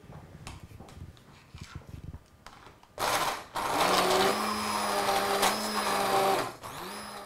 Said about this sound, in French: Une fois que le potage est cuit, on va le mixer.